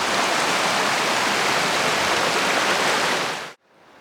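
The Palancia river near its source at Bejís, Castellón, rushes in a steady, loud broadband wash of flowing water that cuts off abruptly near the end, leaving quiet background.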